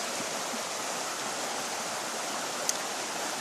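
A muddy creek with running water gives a steady, soft broadband rush from start to end, fairly faint and even, with one brief tick near the end and no voices.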